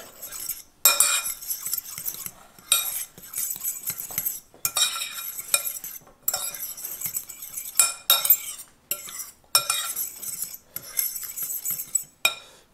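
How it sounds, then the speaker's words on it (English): A spoon stirs almond flour and sugar into keto chocolate brownie batter in a bowl, giving repeated bursts of scraping and clinking against the dish with short pauses between strokes. "I'm going to mix these together a little bit."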